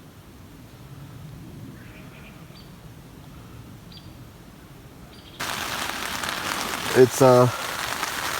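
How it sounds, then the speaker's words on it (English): Rain patters steadily on a tent in the Utah wilderness, soft at first and then louder, with a brief voice and a couple of thumps near the end. "so it's sunny outside, but it's raining"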